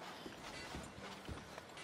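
Horse hooves clip-clop steadily in Red Dead Redemption 2 as a hitched horse shifts and steps, soft irregular thuds under a constant low background hum, fairly quiet throughout.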